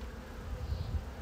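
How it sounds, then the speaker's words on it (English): Honey bees buzz around an open Flow Hive during a honeycomb harvest, a low, steady hum that swells slightly in places, close by and without voices. "you can see a lot of bees here"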